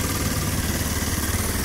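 A Kawasaki KLX 230, an air-cooled motorcycle, idles close by with a steady, even engine rumble and a slight pulsing throb, loud and uninterrupted.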